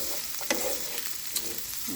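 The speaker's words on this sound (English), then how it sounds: "browning, caramelizing my onions" Onions browning and caramelizing in a pan for curry pumpkin, giving a steady, soft frying hiss with a couple of brief stirring clinks, close and fairly quiet.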